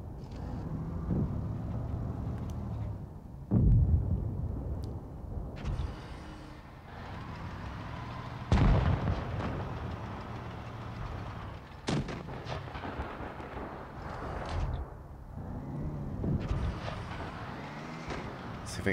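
Tank cannon fire in the World of Tanks Blitz video game: several booming, heavy shots spaced seconds apart over a continuous engine rumble and clanking tracks, with someone talking intermittently between them.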